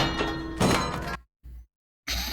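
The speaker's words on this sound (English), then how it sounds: "Kid barred the door." A door being barred shut in a Battlestar Galactica scene, heavy wooden-sounding thunks and a scraping clatter followed by brief silence and another loud thud, close and forceful.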